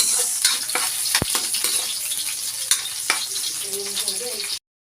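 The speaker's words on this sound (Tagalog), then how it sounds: "Igisa natin ang bawang, buyas," Garlic and onion sautéing in a pan for pancit canton, a steady close sizzle with scattered stirring scrapes and a sharp knock, running about four and a half seconds before cutting to silence.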